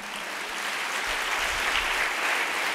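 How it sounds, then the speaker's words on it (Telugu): A church congregation claps together during a Sunday sermon, a dense, even wash of applause that holds steady for a few seconds with no voices over it. "చప్పట్లు కొడదామా?"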